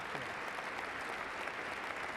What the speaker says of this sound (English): It's like Biden and Kamala have no choice but to clap, but they're not standing